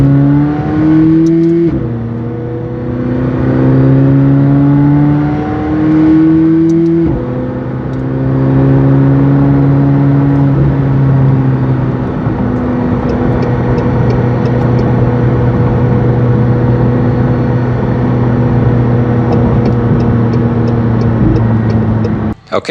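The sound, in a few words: 2019 McLaren 720S with FI exhaust revving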